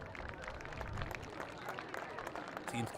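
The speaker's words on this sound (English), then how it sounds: "Team's clapping it up now that he's able to walk under his own will." Varsity high school football players clapping for an injured teammate, scattered hand claps under background voices and crowd noise, moderately distant.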